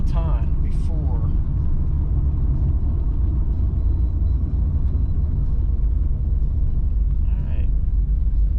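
A Chevrolet Camaro Z28 accelerates hard, a deep, steady engine rumble droning throughout beneath someone talking in the cabin.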